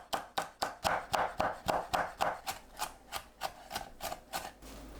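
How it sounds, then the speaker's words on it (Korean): A knife chops onion, scallion and green and red chili peppers on a cutting board for perilla leaf kimchi, a quick, steady series of about twenty crisp thuds, close up and alone. "양파, 쪽파, 청양고추, 홍고추를 작게 썰어주세요."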